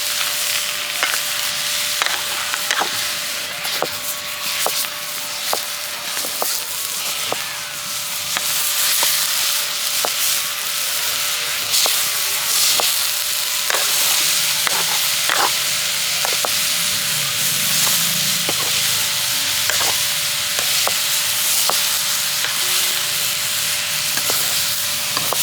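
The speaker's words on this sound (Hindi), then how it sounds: "अब इसे डाल के चला देते हैं, तो धुआं लगत है।" Mustard flower greens fry and get stirred in a pan in a village kitchen, giving a steady broadband sizzle with scattered scraping clicks from the stirring, close and continuous with no talk.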